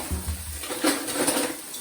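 Singapore noodles being tossed with metal tongs in a pan, giving a brief burst of soft clinking and scraping with a low sizzle underneath, close and steady for a couple of seconds.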